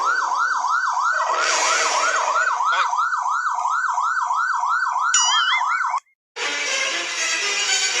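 A loud wailing siren rises and falls in a steady repeating cycle, layered with a second warbling tone, cutting off briefly before noisy clatter resumes.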